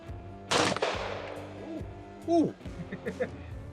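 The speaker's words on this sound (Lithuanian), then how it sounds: "Viskas rodo, kad ginklas iššautas" One sharp handgun shot fired close by on a shooting range, followed by a brief ringing decay, with someone talking around it.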